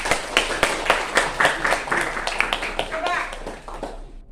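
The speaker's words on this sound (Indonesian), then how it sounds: "Tepuk tangan semuanya." Children in a classroom clapping together, a burst of quick, uneven hand claps lasting a few seconds with a voice heard among them.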